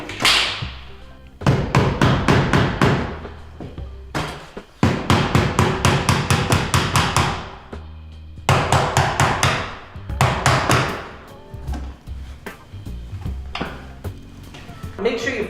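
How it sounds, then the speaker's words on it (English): A hammer strikes a chisel in rapid runs of sharp taps, pausing between bursts, while the chisel works along a wooden window sash to remove the glazing bead. Someone speaks between and over the strikes. "You're not chiseling on the face of the glazing bead."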